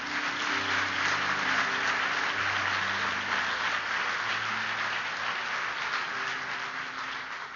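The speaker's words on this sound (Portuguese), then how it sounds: "Pode aplaudir Jesus, querido." Church congregation applauding during a Sunday evening Baptist service, steady dense clapping filling the hall for several seconds with low sustained organ or keyboard tones underneath.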